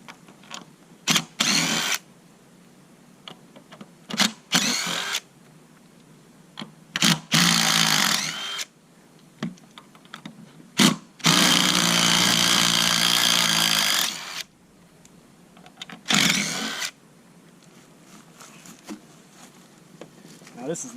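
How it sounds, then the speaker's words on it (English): An impact gun rattles in repeated bursts as it loosens the wheel bolts on a 1939 Allis-Chalmers B hay wagon, short rattling blasts mixed with one longer run, separated by quiet gaps. "using the impact gun to loosen them up the rest of the way"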